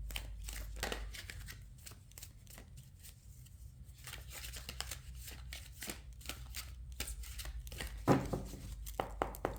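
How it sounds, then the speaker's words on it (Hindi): Tarot cards are drawn and slid from a deck by hand, producing soft, continuous papery shuffling and flicking close up, with a few sharper snaps near the end under a low steady hum. "पहले इस डेक में से 5 कार्ड्स निकालेंगे"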